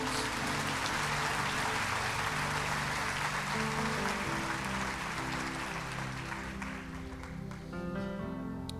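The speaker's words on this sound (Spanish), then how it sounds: "Eso merece un aplauso a él." A church congregation applauding after a pastor's sermon, a steady, dense wash of clapping that holds for several seconds before thinning slightly toward the end, with music or sustained tones underneath.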